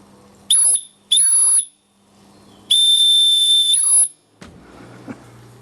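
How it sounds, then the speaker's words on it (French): Steam whistle on a small steam engine sounded in a test: two short shrill blasts, then a longer sustained piercing shriek, loud and close, followed by a hiss of escaping steam and a clank. "Bon, on refait un petit essai de sifflet."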